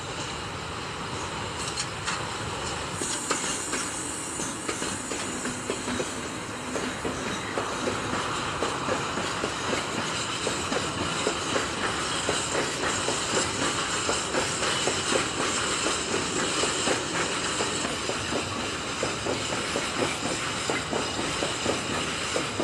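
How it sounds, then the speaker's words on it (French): A pair of SNCF BB 66000 diesel locomotives running in multiple under catenary hauls a train of empty wagons, making a steady loud rumble with a continuous run of rhythmic wheel clicks and clatter that grows a little busier midway. "Toujours sous caténaire, cette UM ramène une rame vide au faisceau d'échange de Gemont."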